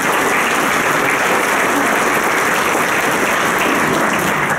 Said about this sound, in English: We need to give her a big round of applause for her.